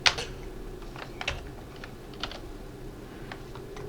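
Typing on a computer keyboard while entering a matrix exponent in Mathcad Prime 10: scattered, irregular key clicks, moderately close and fairly quiet over a steady low hum, with no speech.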